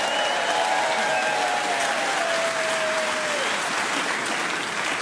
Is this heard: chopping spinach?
no